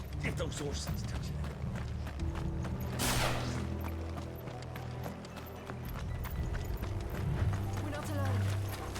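Horse hooves clop in Final Fantasy XVI, a rhythmic trot of repeated hoofbeats under characters' spoken dialogue, with a brief rushing swell partway through.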